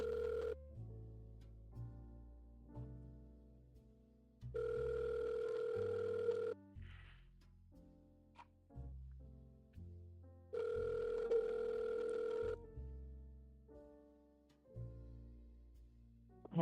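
Telephone ringback heard while calling a realtor: repeated steady ring tones in regular bursts with quiet gaps, faint and alone.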